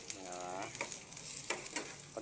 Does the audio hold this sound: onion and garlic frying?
yes